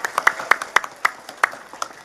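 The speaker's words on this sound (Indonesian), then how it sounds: "Saya minta tepuk tangan dulu kangge warga Kampung Bubutulan." An audience claps for the residents of Kampung Bubutulan during a lively Friday morning religious gathering: a short burst of sharp, irregular hand claps, close and fairly loud, thinning out within about two seconds.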